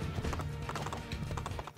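Horse hooves clip-clop steadily in the Assassin's Creed 2 video game, a close, continuous trotting rhythm with brief snorting hints and no talk over it.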